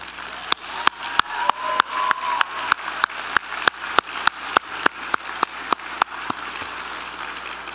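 Sustained applause from a convocation ceremony audience, a dense steady wash of clapping with several sharp, loud claps standing out at regular intervals throughout.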